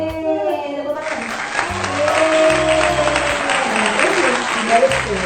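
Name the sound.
clapping hands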